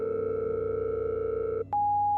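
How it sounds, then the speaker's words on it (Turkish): Telephone tones as a kitchen answering machine picks up: a steady buzzing dual-pitch tone, a brief click-like break, then a single clean high beep continuing to the end, moderately quiet. "o sırada mutfaktaki telefon çaldı ve telesekreter devreye girdi"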